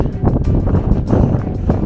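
Gusty Icelandic wind buffets the microphone with low rumbling bursts, loud and close, rising and falling across the short stretch.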